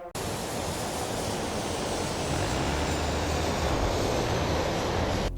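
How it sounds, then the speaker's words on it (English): Drone propeller noise recorded in flight, a steady loud broadband rushing hiss that holds constant for several seconds with no talking. "But the other issues is the sound, and this is what it sounds like."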